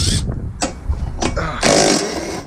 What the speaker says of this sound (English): These little DeWalt impacts here.